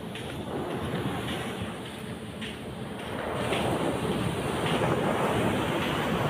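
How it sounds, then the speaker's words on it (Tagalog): Strong surf pounds a beach in Phuket, Thailand, under steady, blustery wind buffeting the microphone, a continuous close wash of broken waves that grows louder and fuller in the second half, with no voices. "Ang lakas ng alon. Medyo malakas ang hangin ngayon guys dito."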